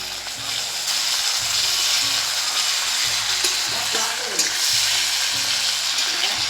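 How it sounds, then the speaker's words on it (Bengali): Tomatoes fry in an electric kadai cooker, putting out a loud, steady sizzle and crackle close up, with stirring scrapes and rhythmic low knocks throughout and no talk. "আর আমি এটা ভাজা হতে হতে এটার সাথে সাথেই আমি টমেটোটাও দিয়ে দেবো, যেন টমেটোটা গলে যায়"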